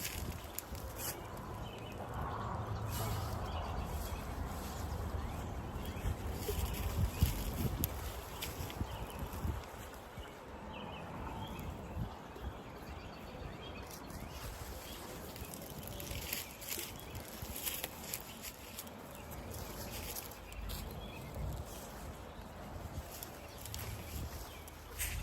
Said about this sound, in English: That wind is not helping.